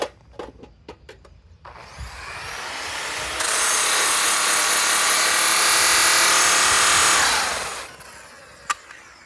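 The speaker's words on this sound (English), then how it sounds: "Clean out this pad, rake it out." Rotary metal-polishing machine spinning while its buffing pad is raked clean, a few sharp clicks then a loud, close, steady whirring grind for several seconds before winding down, ending with a single tap.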